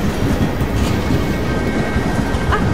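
A train rumbling past in the video game Assassin's Creed Unity, a loud, continuous low roar with faint rhythmic clatter and one brief higher squeal near the end, with no voices.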